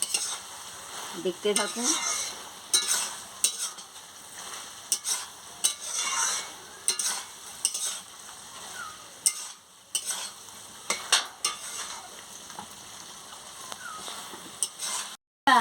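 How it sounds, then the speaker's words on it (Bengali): A spoon stirring ivy gourd and potato curry in a metal pan, scraping and clattering in irregular bursts over a soft background sizzle, with a brief spoken remark partway through. "এবার একটু আমি ভালো করে নাড়িয়ে নিচ্ছি"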